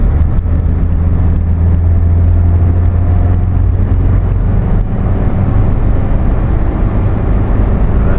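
Toyota Land Cruiser LJ78 turbo diesel 4x4 accelerating in fourth gear around 3,500 RPM, a steady loud low engine drone and road rumble heard from the cabin, continuous with no talk.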